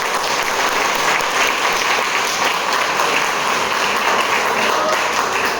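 A seminar audience on Ayurveda gives loud, sustained applause, dense clapping from many hands continuing evenly and close by for several seconds.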